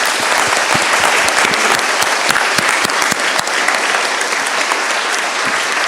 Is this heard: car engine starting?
no